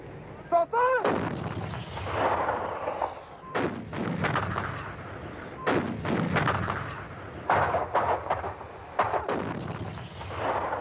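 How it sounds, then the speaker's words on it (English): Artillery fires a barrage on Argentinian hilltop positions near Stanley in the 1982 Falklands War, heavy booming shots landing in irregular bursts, some near and loud, others distant, with rolling rumble between them. "artillery homed in on Argentinian positions guarding the approaches to Stanley"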